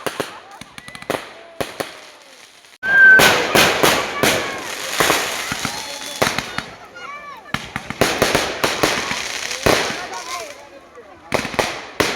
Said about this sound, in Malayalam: പൂരം കഴിഞ്ഞ് വെടിക്കെട്ട് കാണാൻ വെയിറ്റ് ചെയ്തിരിക്കുക കേട്ടോ ഞങ്ങൾ.